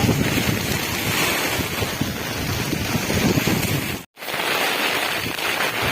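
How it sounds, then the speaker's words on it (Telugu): Floodwater rushes through a village during a cyclone, a loud, continuous roaring wash heavy with wind buffeting, broken by a brief silent cut near the end. "చూడండి మొత్తం ఇదిగో ఏడు నీళ్ళు చూడండి ఎలా పోతున్నాయో"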